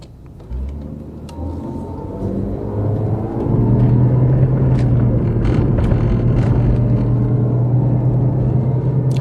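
A car engine revs up steadily while accelerating uphill, its droning pitch climbing and holding as it pulls hard, with low road rumble throughout and no talking.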